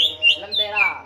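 A green leafbird (cucak ijo) sings at a bird contest training session, giving a quick run of high, bright chirps and whistles, close and clear, lasting about a second.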